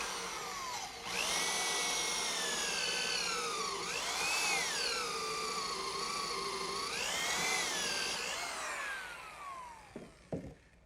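A power drill whines steadily through wood, boring a 1 1/4-inch counterbore, pitch dipping and rising as it bites in, then spins down with a few knocks at the end.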